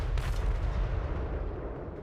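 A cannon volley fires in a Conquest strategy game, a close heavy boom with a deep rumbling tail that fades over two seconds.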